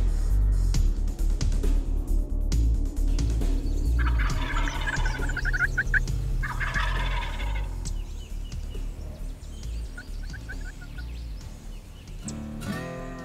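Wild turkey toms gobble in repeated rattling bursts from about 100 yards away at the edge of a field plot during a spring hunt, carrying over a steady outdoor background.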